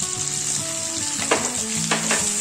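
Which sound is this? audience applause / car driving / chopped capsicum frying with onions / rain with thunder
chopped capsicum frying with onions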